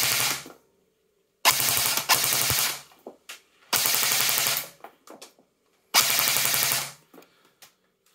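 A CYMA CM.517 airsoft M4 on an 8.4-volt battery fires four loud full-auto bursts, each a rapid mechanical rattle lasting under a second, with short pauses and a few stray clicks between them.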